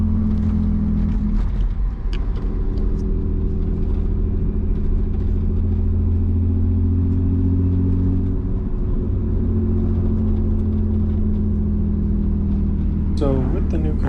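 A car fitted with new control arms and Condor poly bushings, heard from inside as its engine accelerates on a drive: a continuous loud low rumble with rising and falling tones, and a brief sharper sound near the end.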